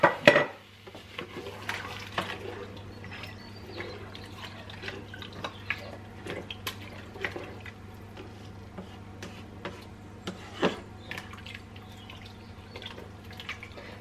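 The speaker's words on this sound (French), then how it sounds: "Je mélange bien" Lentils in about three times their volume of water stirred in a pot before pressure cooking, giving faint scattered clinks and liquid taps over a steady low hum, with a louder knock at the start.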